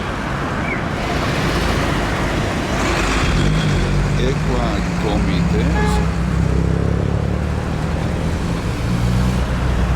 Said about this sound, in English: A lot of cars going by.